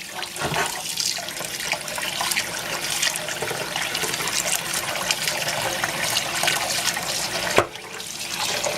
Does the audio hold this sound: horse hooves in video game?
no